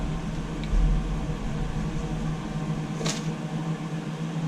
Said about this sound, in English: I don't think you can be too exact with these little toaster ovens